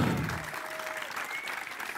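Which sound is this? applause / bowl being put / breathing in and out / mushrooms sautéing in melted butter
applause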